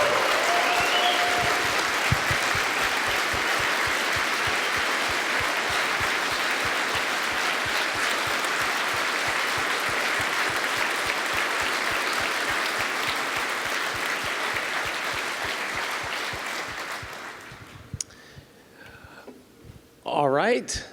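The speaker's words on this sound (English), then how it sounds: "Another round of applause for Russell." At PyCon 2019, a large conference audience applauds after a keynote by Russell Keith-Magee, steady dense clapping filling the room for about seventeen seconds before fading, followed by a host speaking.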